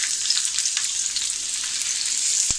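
Oil sizzles steadily in a hot tava for a chana gravy masala, a constant close hiss with a sharp click near the end and no voices.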